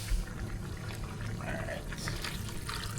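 A small splash of water poured into a pot of Jamaican oxtail, a soft continuous pour and trickle against a low background hum, close and moderately quiet with no talking.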